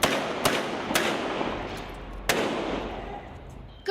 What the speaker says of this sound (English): Gunshots rang out at a major intersection in Bangkok